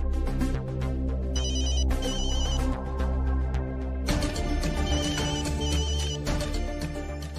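A mobile phone ringtone plays loudly and continuously as a repeating musical melody with bright chiming tones, filling the whole stretch without any voices.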